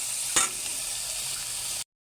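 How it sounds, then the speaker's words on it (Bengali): Dried shrimp sizzles in hot oil in a pan, a steady bright hiss with one brief stir or clatter near the start, then an abrupt cutoff. "শুটকিটা একটু তেলে সুন্দর করে ভেজে নেবেন"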